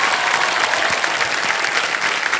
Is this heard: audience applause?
yes